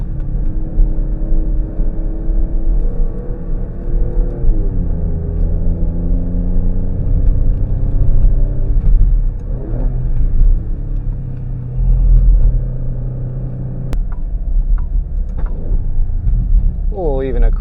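A 2024 Alfa Romeo Stelvio Quadrifoglio engine drones and rises through gear shifts from inside the cabin, then a few sharp exhaust crackles and pops come near the end, with a person talking over it.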